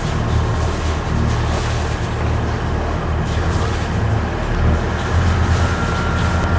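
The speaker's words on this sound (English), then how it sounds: "Once your engines are running, make sure you check the exhaust to show that the water is flowing through the engines" The engines of a 2020 Lagoon 42 catamaran run at idle, a steady low, throbbing rumble with a wash of broadband noise, close and continuous throughout.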